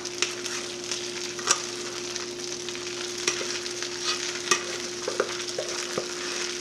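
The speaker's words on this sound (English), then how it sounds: "Now we're gonna coat the rice with all the butter" Brown rice stirred in butter in a pan makes a steady soft sizzle, with regular scraping strokes of a utensil against the pan, close and alone with no talk.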